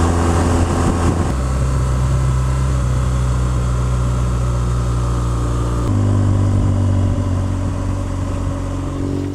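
A motorcycle is ridden along at a steady cruise. Its engine drones without a break, loud and close, and shifts pitch twice as the rider changes speed, with rushing wind mixed in.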